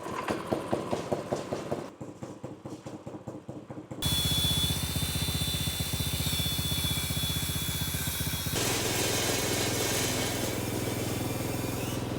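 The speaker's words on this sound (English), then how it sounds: "we're gonna turn the engine on, spin the wheels, and grind the brake disc down all even" A 212cc engine swapped into a mobility scooter runs, spinning the wheels while the brake disc is ground down. A rhythmic idle changes into a loud, steady, buzzing drone with a high grinding whine.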